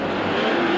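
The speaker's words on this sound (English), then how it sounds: "there you get a panoramic view as the cars rush down Biscayne Boulevard" Race cars rush down Biscayne Boulevard in Miami, a continuous loud engine roar with a steady droning tone and no break.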